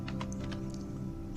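Typing switch configuration commands on a computer keyboard: a quick run of close, crisp key clicks over a steady electrical hum.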